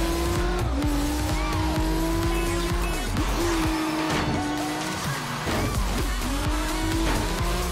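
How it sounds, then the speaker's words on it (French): Game car in Forza Horizon 3 drifting, engine droning steadily with repeated tire squeals rising and falling across the run, loud and close with no talk. "faut que je fasse du drift"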